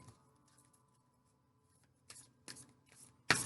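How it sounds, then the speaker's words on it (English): Tarot cards are shuffled in a quiet room, with a few soft riffles and then sharper, louder card flicks and snaps toward the end. "I want to shuffle on camera for you"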